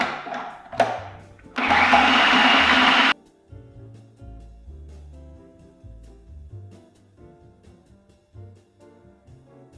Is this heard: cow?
no